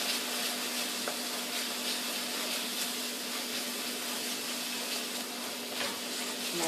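Turmeric, coriander, cumin and green masala frying in a pan for black-eyed bean curry, a soft steady sizzle with a faint constant hum underneath, no voices.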